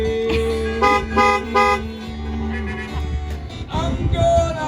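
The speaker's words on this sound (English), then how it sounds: "I'm gonna honk in the parking lot." Car horn honking in a parking lot, several blasts in an uneven rhythm laid over music, loud and close.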